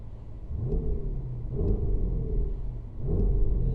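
Inside a 2024 Porsche Cayenne Turbo GT set to sport mode, a deep engine rumble swells through three rising revs, heavy and close, with a louder push at the end and no voices.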